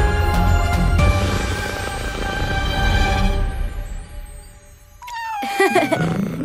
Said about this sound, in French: Tu es un gentil chat.